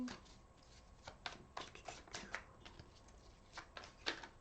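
Tarot cards are shuffled repeatedly up close, a quick series of crisp riffling snaps and flutters in an otherwise quiet room.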